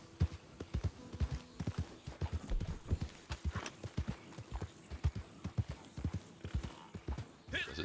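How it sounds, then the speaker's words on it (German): Steady clip-clop of horse hooves trotting at a brisk, even rhythm in the video game Red Dead Redemption 2 Online, fairly close, continuing throughout with a slight echo. "Pferd wird schnell nervös."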